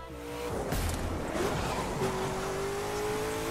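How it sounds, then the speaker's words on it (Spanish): Shelby GT500 in the racing game The Crew 2, its exhaust popping and crackling over a steady revving engine, with sharp bursts rising out of the continuous car noise. "Vaya estallidos que pega el coche."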